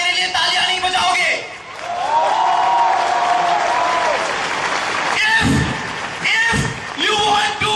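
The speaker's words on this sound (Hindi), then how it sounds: "इसका मतलब ये नहीं कि आप मेरे लिए तालियां नहीं बजाओगे" Audience at a national convention clapping loudly, a dense continuous wash of applause with a few heavy thumps near the end, while a voice talks over it.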